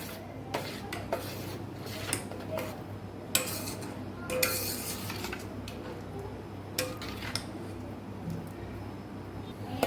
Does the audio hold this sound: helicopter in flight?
no